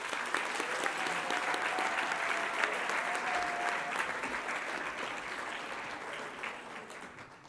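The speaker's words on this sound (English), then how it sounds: "let's give these recipients a round of applause" An audience at an awards ceremony claps steadily for the recipients, a dense, sustained round of applause that fades slightly at the end.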